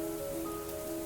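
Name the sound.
rain falling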